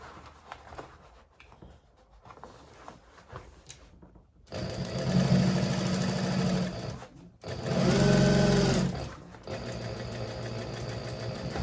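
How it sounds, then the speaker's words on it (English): A sewing machine stitches a handbag lining in two loud, fast-running bursts separated by short pauses, after a quieter stretch of fabric handling; no one speaks. "I've just overlapped those stitches there a little bit. Locks them in place."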